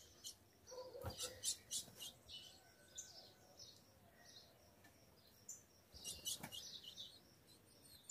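Female ultramarine grosbeak calling in an aviary, faint scattered chirps in short clusters against a quiet background.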